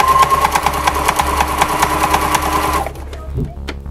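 Sewing machine stitching fabric for a Christmas stocking, a steady rapid mechanical whir with rhythmic needle clatter that stops near the end, with light talk over it.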